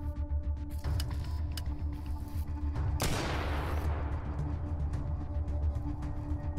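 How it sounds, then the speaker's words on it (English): Shotgun blast in the post-apocalyptic RPG Atom RPG, a single loud broadband crack at about three seconds with a decaying tail, over a steady rumbling game ambience with fainter thuds before it. "I'm just gonna shotgun these dudes"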